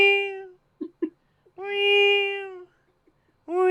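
A man sitting on the floor at a going-away party, drunk, mimics a cat with drawn-out, nasal meows: a short call, a brief pause with small clicks, then a long sustained meow and another starting at the end, close and alone.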